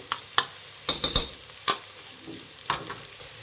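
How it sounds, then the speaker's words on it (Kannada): Coriander, mint and fenugreek leaves go into hot oil and are stirred, giving a soft low sizzle punctuated by a handful of sharp clicks and taps of a spoon against the pan, close by. "ಮಿಕ್ಸ್ ಮಾಡಿ ಈ ಎಣ್ಣೆಯಲ್ಲಿ ಫ್ರೈ ಮಾಡಬೇಕಾಗತ್ತೆ"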